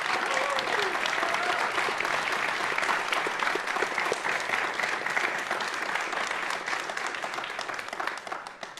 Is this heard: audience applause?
yes